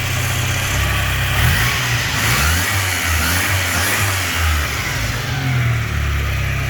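A Mitsubishi Starion engine with newly replaced fuel injectors and vacuum advance revs up and down in repeated loud pulls over a steady idle, heard close and alone.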